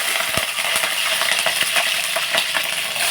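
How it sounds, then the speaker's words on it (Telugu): Cloves, cardamom and cinnamon sizzling in hot oil for a chicken curry, a dense bright crackle with sharp pops and a few metallic clicks of a spoon, close and steady for a few seconds. "కొంచెం లవంగా యాలక దాసిన చెక్క వేస్తున్నాను"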